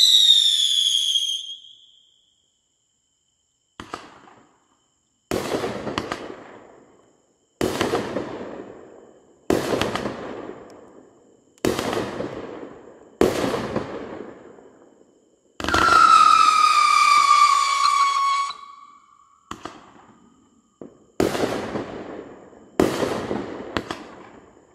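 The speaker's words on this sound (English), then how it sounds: "features stunning red and silver whistle tails alternating with unique aerial breaks of broken palms transforming to gold palms" A 500-gram, 24-shot firework cake fires in an outdoor display, launching loud rising whistles alternating with sharp, booming aerial breaks, one burst after another with short pauses between.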